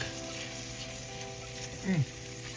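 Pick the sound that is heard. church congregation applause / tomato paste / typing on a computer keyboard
tomato paste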